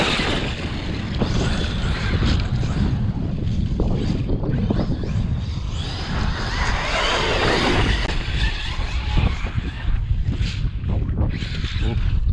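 Strong wind blows outdoors at night on wet ground, roaring and buffeting the microphone continuously with surging gusts and no pauses throughout.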